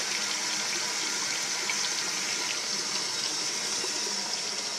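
Muddy water drains from a steam boiler in a steady, even hiss and rush of flowing water, continuous and moderately loud, with no voices.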